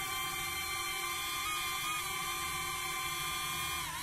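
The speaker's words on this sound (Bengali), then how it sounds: "চলো, ড্রোন উঠছে" A DJI Neo drone lifts off with a steady, high-pitched whirring propeller whine that holds at an even level throughout, with no voices.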